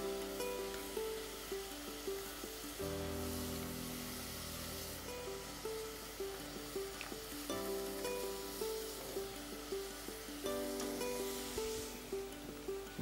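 Onions sizzle and fry in a pan for Indian kebab, a steady hiss with a soft scraping rhythm of stirring repeating every second or so, alone and fairly close.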